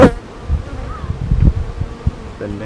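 Honey bees buzz around an opened hive during a frame inspection, a steady close drone with soft rustling and faint thumps of frames being handled.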